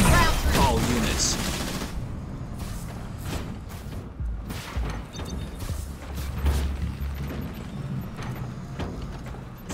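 Battle gunfire from the real-time strategy game Halo Wars 2, rattling in dense bursts and clatters throughout under a steady rumble of combat noise, with mechanical clanks mixed in.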